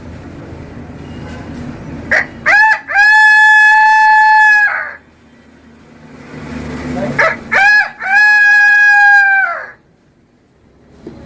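A man imitates a rooster crowing, two long loud cock-a-doodle-doo calls, each opening with short clucking bursts before a sustained drawn-out crow, close and clear.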